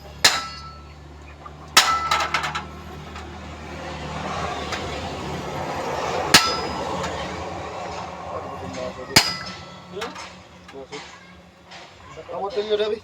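Sharp metallic clangs of a hammer striking metal, several spaced hits ringing out over steady background noise while people talk throughout.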